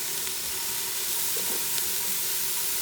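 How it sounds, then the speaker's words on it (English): Mince meat sizzles steadily in a hot pot as it is broken up and added, a close, continuous hiss with a few soft stirring bumps. "you take your mince meat, break it up as you add it into the pan"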